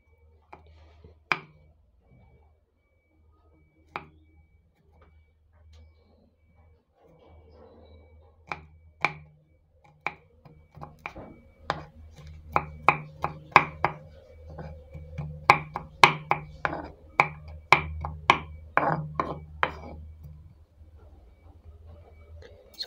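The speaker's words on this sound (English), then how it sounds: "I'm going to be cutting my garlic into small pieces also, finely chopped." A knife finely chops garlic on a board, starting with a few sparse, sharp taps and building into a fast, irregular run of crisp chops, all close and clear.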